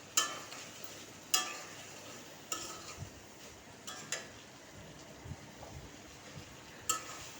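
Cauliflower florets are stirred in a spice paste in a pan while cooking a cauliflower and fish dish. A soft, quiet sizzle sits under repeated sharp knocks and scrapes of a spatula.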